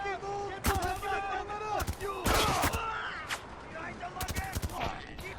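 Gunfire from the video game Spec Ops: The Line, with repeated loud bursts and single shots scattered across the clip, while players talk over the shooting.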